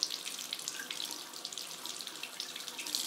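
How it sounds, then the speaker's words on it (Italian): Hot water runs steadily from a tap into a sink, a faint, continuous hiss and splash heard alone and close by. "Quindi l'acqua calda sta arrivando"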